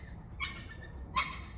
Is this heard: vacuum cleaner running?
no